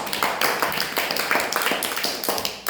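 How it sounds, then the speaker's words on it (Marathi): A school classroom breaks into steady, dense clapping for a student whose craft project was made from cardboard and waste materials. The applause is continuous and fairly close, with no speech. "जोरदार टाळ्या वाजवा श्रेयासाठी"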